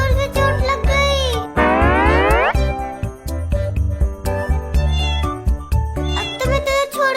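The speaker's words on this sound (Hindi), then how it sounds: "ये आ जाओ, ये बिल्ली के बच्चे आ जाओ आ जाओ।" Kittens meow repeatedly in short, high, close cries, one drawn-out call standing out, while someone talks and coaxes nearby.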